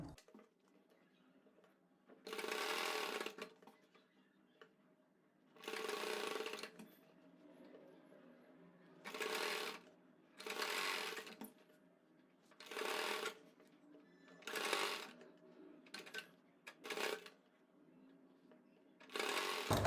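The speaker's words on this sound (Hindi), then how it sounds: "ये देखिए इस तरीके से आपको सिलाई लगानी है" A sewing machine stitching the elastic waistband of a palazzo, running in close, steady bursts of a few seconds each, separated by short pauses.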